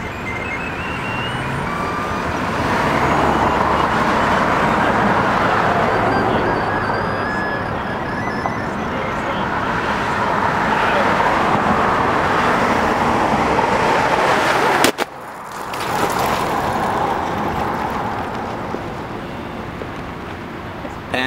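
Cars passing on a road, a steady loud roadway rush of traffic that swells and fades as vehicles go by, with a sharp knock partway through and voices talking.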